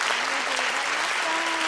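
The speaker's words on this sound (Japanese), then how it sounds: "今一度大きな拍手をお願いいたします。" Sustained audience applause at a mini concert in Hiroshima Green Arena, a dense, steady roar of clapping hands that fills the whole stretch, with a faint voice speaking beneath it.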